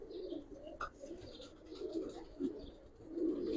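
Giribaz pigeons cooing softly in a loft, low murmuring coos rising and falling continuously at moderate distance, with faint chirps and rustling mixed in.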